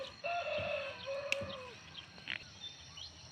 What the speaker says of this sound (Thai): แล้วก็มีเสียงนกเสียงเป็ดเสียงไก่ร้อง